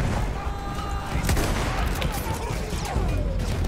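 Battlefield 1 gunfire from a weak gun, dense overlapping shots and booms of a battlefield at steady loudness, with faint voices mixed in.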